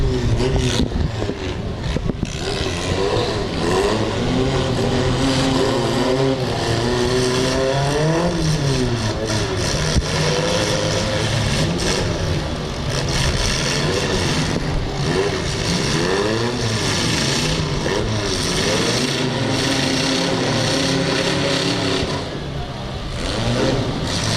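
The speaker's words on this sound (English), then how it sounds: "And we are down to just 4 pickup trucks left running." Several pickup trucks in a demolition derby, engines roaring and revving continuously and loudly with rising and falling pitch, scraping metal and crowd noise mixed in throughout.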